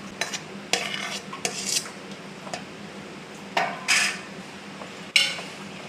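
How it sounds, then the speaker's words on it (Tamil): Mango pieces fry in ghee in a pan, a low sizzle under sharp scrapes and clinks as a utensil stirs against the metal, the knocks coming irregularly every second or so. "அதை கொஞ்சம் சாஃப்ட் ஆகிற வரைக்கும் அப்படியே கீயில் ஃப்ரை பண்ணிக்கோங்க."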